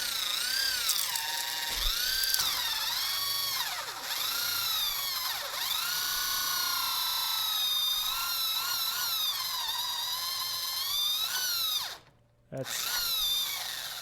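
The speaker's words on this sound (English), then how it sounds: "That's the surprisingly wonky hole saw that I remember." A wobbly hole saw on a power drill cuts through MDF board, producing a loud, continuous whining grind with pitch that rises and dips as the load changes, briefly cutting out near the end before restarting.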